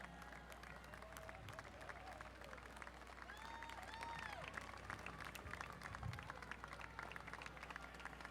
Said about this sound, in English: Round of applause for these gentlemen.